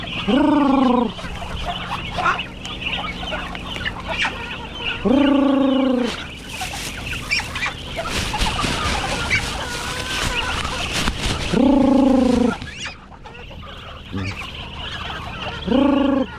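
Young chickens in a roomy new enclosure, with repeated loud gobbling fowl calls rising in bursts roughly every five seconds over steady scratchy background clucking and rustling.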